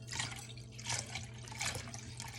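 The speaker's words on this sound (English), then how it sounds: "2 cups of the cold water. So, I'm going to pour this right in." Two cups of cold water are poured into jello mix in a kitchen, a continuous splashing, trickling stream with uneven surges, close and moderately loud.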